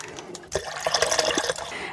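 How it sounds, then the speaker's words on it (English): Vinegar and water poured into a jar, a close splashing, trickling stream of liquid that starts abruptly after a brief pause and runs steadily with bubbling and gurgling as the jar fills. "Like about the same amount of vinegar and the same amount of water that's going to fill up that jar."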